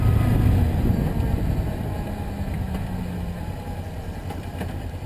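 A Kawasaki Ninja 300 motorcycle engine runs at a low, steady idle amid wind and road noise, a quiet, even burble that eases slightly in loudness over a few seconds.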